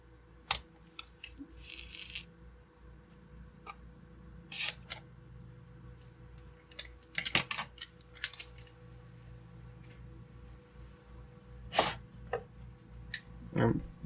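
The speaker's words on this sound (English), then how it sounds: "I'm only using the scissors because I feel like people yell at me if I use my knife right on there." Scissors snip through a rubber conveyor belt for a Prusa Mini 3D printer bed, giving a few sharp, close cuts and rubbing sounds spread through an otherwise quiet stretch.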